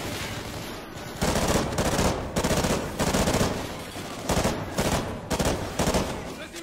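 Rapid gunfire in the Call of Duty Ghosts campaign, loud sustained bursts of automatic fire repeating in close succession, with quieter firing before the main volleys.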